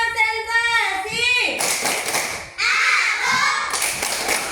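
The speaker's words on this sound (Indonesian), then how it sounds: "sekarang sebelum belajar kita tepuk konsentrasi dulu ya" A primary school class does a rhythmic concentration clap before a lesson. Children chant and speak in bursts, and loud patterned hand claps and thumps break in between the voices.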